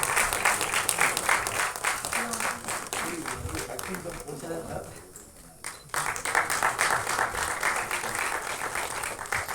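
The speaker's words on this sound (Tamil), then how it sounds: "ஒரு பலத்த கைத்தட்டல் கொடுத்துடலாம் ப்ளீஸ்." An audience at an album song screening festival claps loudly and continuously, with a brief lull midway before the applause swells again, while a voice speaks over it.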